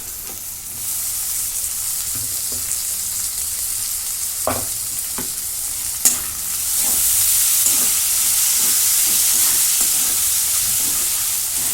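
Chopped tomato sautés in a hot pan, a steady close sizzle and hiss with occasional soft scrapes of stirring that grows slightly louder and brighter toward the end, with no one talking.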